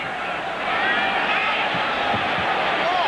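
Dense, steady roar of a large football stadium crowd at a 1996 49ers at Saints night game in New Orleans, a hostile home crowd swelling slightly and holding a continuous wash of noise throughout.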